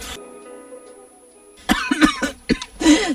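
A person coughs in several sharp, close bursts after a faint, quiet stretch, each hack loud and abrupt.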